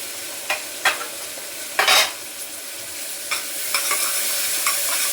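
Onion and tomato are sautéed in a pan, with a steady sizzle of frying under occasional scraping stirs of a spoon against the pan, close and fairly loud.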